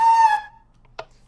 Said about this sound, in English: ghast scream,